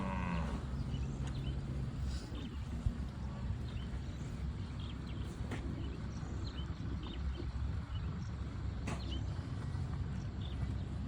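Cattle lowing on a farm, continuous low bellowing mixed with steady rumbling background noise throughout, no clear talk.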